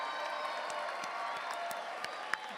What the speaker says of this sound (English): let's give one more round of applause to our inductees for the Alpha Chi National College Honor Society